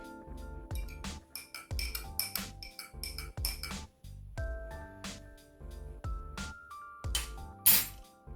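A metal spoon clinks against a glass of water in repeated bursts while stirring in salt, with scraping and rattling in between, close and fairly loud.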